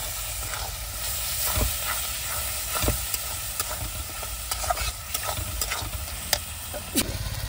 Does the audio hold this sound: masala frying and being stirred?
yes